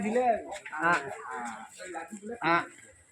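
Cattle lowing at a cowshed packed with many cows, a few deep, harmonic moos at moderate distance, with people talking nearby.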